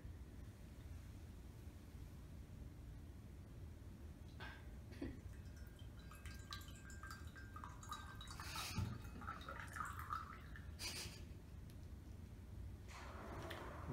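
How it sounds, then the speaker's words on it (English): Hot water trickles and drips faintly into a serving pitcher to warm it during a tea ceremony, with scattered small splashes and clinks over a steady low background hiss. "we will pour the water into the serving pitcher in order to warm the serving pitcher"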